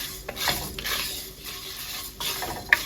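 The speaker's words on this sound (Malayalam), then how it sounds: "നമ്മളിങ്ങനെ നിർത്താതെ ഇളക്കണം, കാരണം നല്ല ചൂടുണ്ട് ഈ പാത്രത്തിന്." Roasted coriander and spices are stirred nonstop in a hot pan while making Kerala beef peralan, with repeated scraping stir strokes over a steady, close sizzle.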